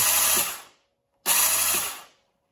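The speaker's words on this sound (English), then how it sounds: "If I hit the starter, you'll just hear the" A 1984 Honda CBX750F starter motor whirs in two short bursts, each spinning for about half a second to a second with a brief pause between, close and fairly loud; the starter clutch fails to engage the engine.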